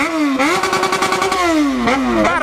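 Yamaha XJ6 motorcycle engine revving hard and loud up close, its pitch climbing, dipping and climbing again in a rising roar, with no talk over it.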